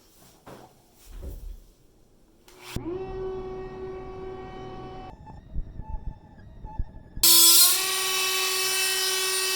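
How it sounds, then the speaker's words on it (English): A rotary tool fitted with a cutoff wheel whines at high speed while a knife is taken apart, with a steady pitched drone that stops, then restarts louder and brighter after handling noises. "Time for a new cutoff wheel."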